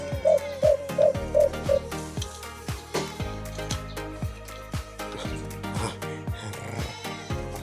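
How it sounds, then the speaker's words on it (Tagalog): A caged alimokon dove gives about five short, soft coos in quick succession near the start, then falls quiet under steady rhythmic background music. "Ito yung klaseng ibon na ano, ano mga chong uh, tinatawag na alimokon."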